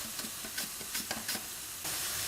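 Onions sizzle steadily in a frying pan while a utensil stirs them in repeated quick scrapes, close and quiet.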